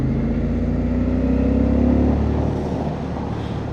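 A CFMOTO 800MT-X motorcycle engine pulls steadily under acceleration, a loud continuous drone with rising tone heard up close alongside wind rush, easing off slightly toward the end.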